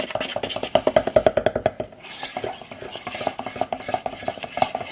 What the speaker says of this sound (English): Now mix it very well.